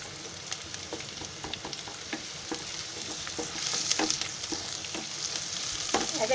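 Ginger-garlic paste sizzles and crackles in a hot pan for home-made chicken fried rice. The frying is steady and close, with scattered sharp pops and stirring clicks throughout.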